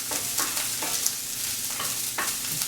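Onions and small peppers sauté in a pan for an omelette, giving a steady close sizzle with soft scraping strokes from stirring and no voices.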